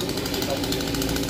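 Chainsaw cutting through king palm trunks outdoors, a steady, loud, continuous engine drone with rough mechanical buzz throughout, no pauses.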